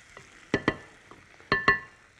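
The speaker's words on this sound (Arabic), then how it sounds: "نقلب كده تقليبه عشان نبقى متاكدين ان كل حاجه وصلت لبعض" Shrimp stirred in a pot with cardamom, mastic, onion and garlic, a close scraping stir that comes in two paired bursts with faint sizzling between, no voice.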